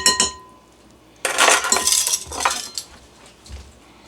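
Ingredients are mixed in a bowl for a Beijing beef dish, with close clinking and scraping of a utensil against the dish in an irregular burst lasting a few seconds.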